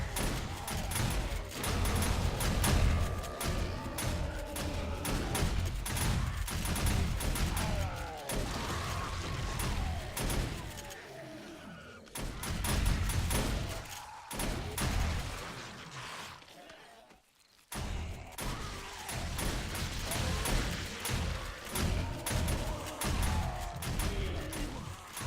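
Shotguns firing at zombies in 7 Days to Die on insane difficulty, a dense clatter of gunfire, smashing and mechanical noise under a loud game soundscape.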